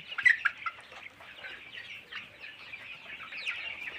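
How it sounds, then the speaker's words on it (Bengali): A busy flock of about 1,200 month-old colour-bird chickens on a farm clucking and chirping, steady overlapping calls with a few louder squawks early on, no talking. "মুরগিগুলা।"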